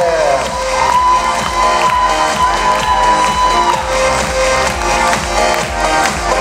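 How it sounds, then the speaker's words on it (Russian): Crowd at a festival cosplay parade claps and cheers continuously over loud music, a dense steady wash of applause without pause. "молодчинки, хлопаем, хлопаем"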